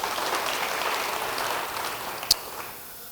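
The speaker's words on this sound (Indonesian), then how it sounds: "Yang mau beri tepuk tangan bagi dia." A church congregation claps during a sermon, a soft, rain-like patter of many hands that holds briefly, then thins and fades out, with one sharper clap standing out near the end.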